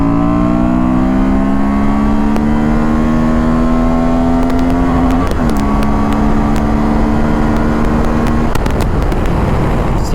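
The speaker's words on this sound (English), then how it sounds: "the engine actually changes its character when it's pulled really hard" Honda Transalp 750 motorcycle engine pulling hard on an open road, a loud rising tone climbing steadily through the gears with a brief dip at a shift midway, strong and close throughout with no talk.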